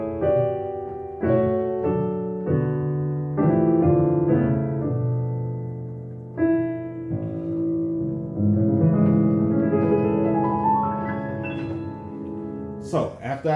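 Solo piano plays a gospel-style ending: rich sustained chords move through a short progression and settle, with a brief higher flourish at the very close, clear and close with no talking.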